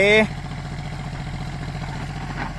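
A John Deere 5045D three-cylinder tractor engine idles out in the field with a steady low rumble and regular pulsing firing beats. A short tonal sound rings over it at the start, then the engine runs on alone at an even level.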